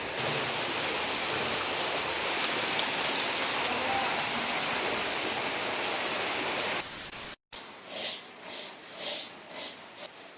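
Continuous heavy rain pounds down in flooding Lama town, a loud, unbroken roaring hiss for about seven seconds before cutting abruptly to quieter, uneven pattering.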